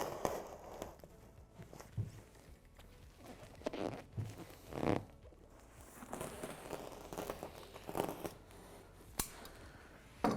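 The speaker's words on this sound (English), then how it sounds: "Using a sharp knife, piece the film at the 600 and do a full 360 around." A sharp knife slicing a full circle around the plastic film wrapping a perforated insulation roll, giving quiet scattered crackles, scrapes and tearing rasps spread through the stretch with no talk.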